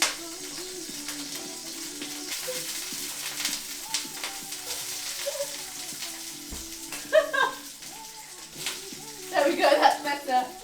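Oil crackles and sizzles steadily in a hot frying pan with a little water in it, with onions cooking, sharper spitting bursts near the end and a person talking over it.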